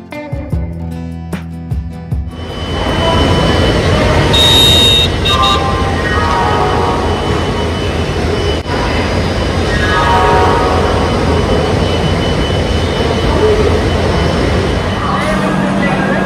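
A long-distance train from Kolkata to Bangalore rumbles at the station, a loud steady clatter and drone of carriages close by, while voices talk throughout.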